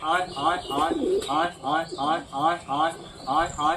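Pigeons being fed at a home coo close by in a steady, repeating rhythm, roughly two throaty calls per second, with a soft background hum beneath.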